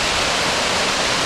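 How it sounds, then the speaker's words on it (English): Floodwater from mountain runoff surges out of a concrete culvert outlet into Oso Creek in Orange County, a loud, steady, broadband roar like a waterfall, close and continuous with no pauses. "here is the amazing amount of water flow coming straight off the mountains"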